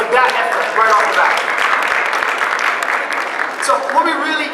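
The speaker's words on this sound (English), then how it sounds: "please give them a round of applause for that effort right off the bat" Audience applause for a group of young entrepreneurs aged 9 to 12 at a youth entrepreneurs panel, a steady wash of clapping sustained loudly throughout, with some voices mixed in.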